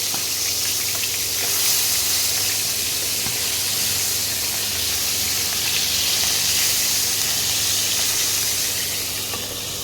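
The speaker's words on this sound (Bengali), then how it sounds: "মাছটা কিন্তু কড়া করে ভাজা হবে না, অল্প করে মাছ ভাজা হবে।" Tangra fish frying lightly in oil for mouri tangra, a steady broad sizzle and hiss with a faint constant hum underneath, continuous throughout with no talk.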